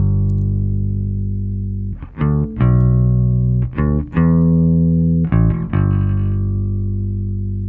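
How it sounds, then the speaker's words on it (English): A clean, dry Fender Precision electric bass, recorded direct with no effects, plays sustained low notes, with a handful of distinct plucked attacks and slides, loud and close. "this is recorded on my Fender Precision bass"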